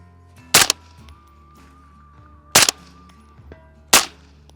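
Three sharp rifle shots fired with 55-grain PMC Bronze ammunition, spaced roughly two seconds apart, each a loud crack with a brief tail against a quiet outdoor background.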